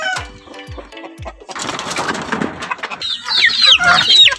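Texas breed roosters and hens in a breeding pen cluck and call close by, a rooster crowing loudly toward the end amid busy flapping and shuffling.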